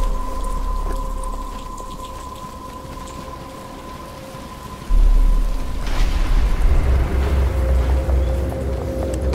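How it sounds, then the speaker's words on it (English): Rain in Batman: Return to Arkham Asylum, a steady hiss of rainfall that swells suddenly halfway through into a heavier downpour with rumbling thunder. "But it's starting to rain."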